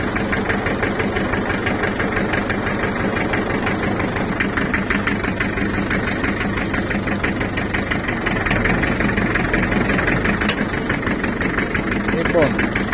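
A tractor engine idles steadily throughout, a continuous mid-to-low mechanical rumble with a regular pulse, up close and fairly loud, with the tractor fitted with an electric steering conversion.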